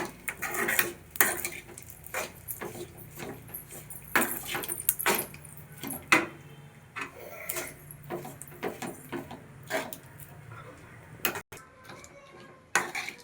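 Puliyogare tamarind rice being stirred and mixed in a pot, irregular scraping and clinking of a metal spoon against the vessel, close, with sharp knocks scattered across a long stretch.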